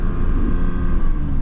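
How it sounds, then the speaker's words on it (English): A Ferrari F8 Spider drives up a mountain road with a steady, loud engine drone, low rumble and constant hum, passing nearby. "we have a Ferrari F8 coming up the mountain, F8 Spider"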